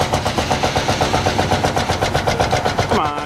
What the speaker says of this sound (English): There's a tractor we just looked at a few minutes ago. It's running good now.